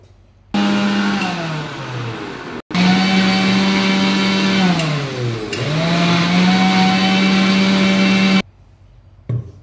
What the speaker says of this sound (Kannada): ಮಿಕ್ಸಿ ಜಾರ್ಗೆ ಹಾಕಿ ಈ ಥರ ಬೆಣ್ಣೆ ತೆಗಿತಾ ಇದ್ವಿ